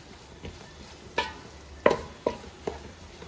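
Onions with turmeric sauté in a pan for a Kerala-style beef curry: about five separate scraping stirs of a spoon against the pan over a soft, low background sizzle, close by.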